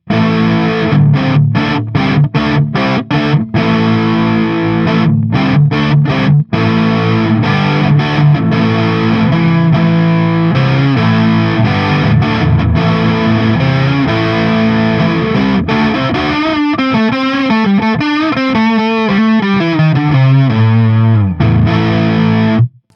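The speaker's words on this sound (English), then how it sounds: "I do like the sound of a 12 string like that" Bright jangling 12-string electric guitar on a budget dual-neck kit guitar, neck pickup, with a distorted, chorus-like shimmer, chords strummed steadily then a descending run, loud and continuous.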